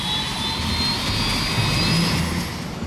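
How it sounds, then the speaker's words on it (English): A helicopter engine spooling up in Arma 2 DayZ, a loud, steady turbine whine and roar with a rising high tone, close and continuous throughout. "Get the heli fired up."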